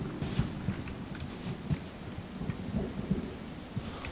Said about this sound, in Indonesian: ada suara petir